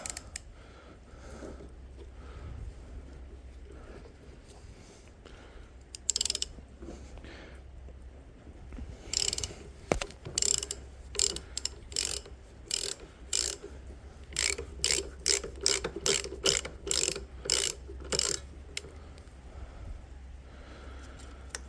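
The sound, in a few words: half-inch impact gun removing a bolt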